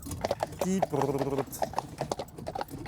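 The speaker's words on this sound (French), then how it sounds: "2 chevaux qui vont nous tirer sur des centaines de kilomètres" Hooves of two draft horses, aged 17 and 18, clip-clopping at a steady walk, close and fairly quiet, with people talking over the footsteps.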